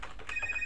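A telephone rings once, a short electronic tone that is clear and fairly close, alone.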